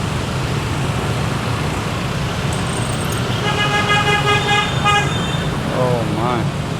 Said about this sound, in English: honking everywhere. Is this normal in Indonesia?